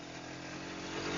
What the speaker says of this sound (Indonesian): dia ada motor lagi nih